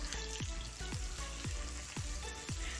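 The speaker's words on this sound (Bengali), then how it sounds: "তেলটা গরম হয়ে আসছে, এখন আমি এর মধ্যে পেঁয়াজগুলো দিয়ে দিব" Onions and vegetables frying in hot oil, a continuous close sizzle with regular swooping scrapes or stirring strokes about every half second, moderately quiet, no voices.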